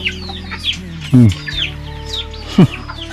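A rooster clucks nearby, with two loud throaty calls standing out against a background of fainter chirps and clucks from other fowl.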